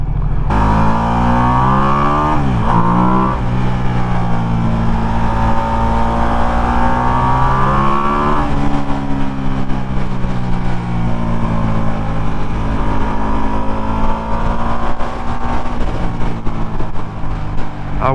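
A Ducati XDiavel motorcycle on its first ride gives a loud, close, continuous engine drone whose pitch climbs and falls as it accelerates and shifts, with no talking.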